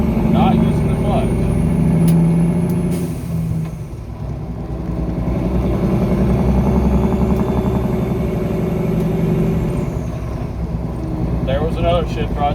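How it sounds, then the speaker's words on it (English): Truck engine droning steadily while a 13-speed transmission is split-shifted without the clutch, the engine note dipping briefly mid-way before climbing again, heard from inside the cab with someone talking over it. "There was another shift right there. That was a split."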